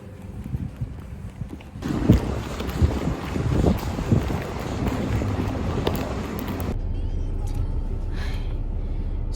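Strong wind buffets a handheld microphone outdoors near a parked car, producing loud rumbling gusts with sharp thumps that cut out abruptly, then a steadier low roar continues.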